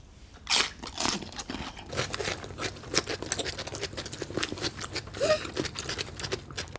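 Crunchy bites of fresh cucumber dipped in ssamjang, eaten up close: repeated crisp crunches and chewing in an irregular rhythm, fairly quiet and intimate, with no talking.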